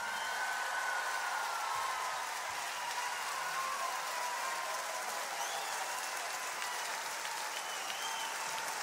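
An audience applauds at Dave's Olympia 2014 show, a steady, dense wash of clapping sustained throughout at moderate distance, with no break.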